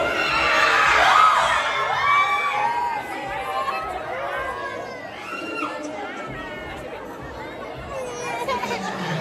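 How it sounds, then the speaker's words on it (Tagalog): A lively crowd at a movie premiere night shouts and chatters together, voices overlapping loudly at first and then settling into a steady, excited hubbub. "Ano ba yung sigaw?"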